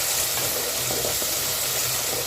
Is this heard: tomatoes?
yes